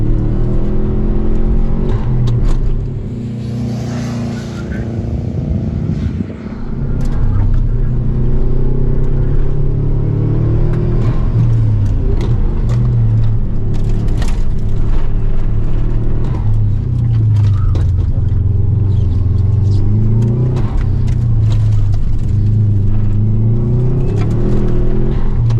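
A Subaru Forester GT wagon races up a hillclimb course, its engine droning loud and steady throughout with rising and falling revs through gear changes, close and continuous with no talk.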